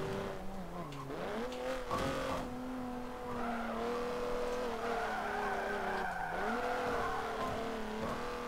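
Tires squeal steadily as a car slides sideways through corners in Forza Motorsport 7 in the rain, the engine droning and rising and falling underneath a long continuous skid, with someone talking over it.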